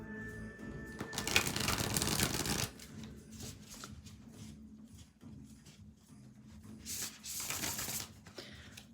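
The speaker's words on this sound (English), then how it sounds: "these cards are very nice to shuffle, and they don't bend or anything" A deck of smooth, stiff playing cards is riffled and shuffled in several bursts of crisp fluttering clicks, with a louder pass early on, close to the listener and with no talk.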